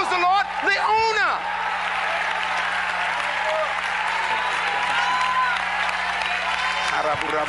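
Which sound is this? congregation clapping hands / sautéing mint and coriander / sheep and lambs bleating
congregation clapping hands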